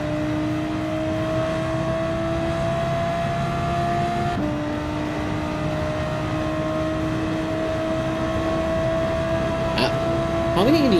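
Race car engine in Gran Turismo 7 at Monza, a steady high-pitched drone holding near-constant revs, then shifting briefly and rising again toward the end, with a voice talking over it.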